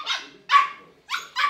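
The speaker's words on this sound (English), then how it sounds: "our male dog's name is Toby" A male dog barks four times in close, sharp bursts, the barks spaced unevenly with brief pauses between them, loud and near with no voices.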